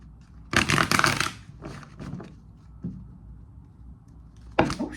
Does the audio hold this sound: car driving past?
no